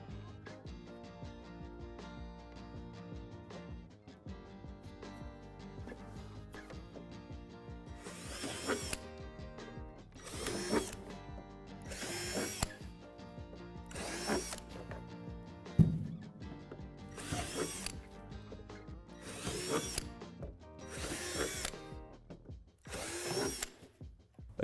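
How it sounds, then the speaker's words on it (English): Power drill with a 3/8 bit boring holes in the back of a plastic rock climbing wall, about eight separate loud, whining bursts of a few seconds each, close up, between quieter stretches. "On the back of the rock climbing walls, drill out these four holes with a 3/8 drill bit."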